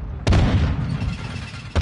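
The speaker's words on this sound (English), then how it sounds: "Friendly mortar strike on the way" Mortar strike explosions in Warzone: a heavy, close boom that rolls into a rumbling tail, then a second sharp blast after about a second and a half.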